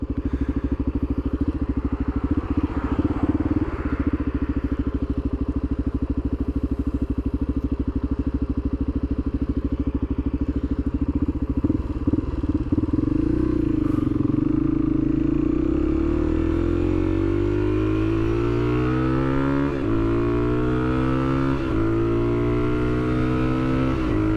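A 2022 Suzuki DRZ400 motorcycle ridden on the road, its single-cylinder engine droning steadily, then revving and accelerating with rising pitch through the gears, loud and close with wind rumble.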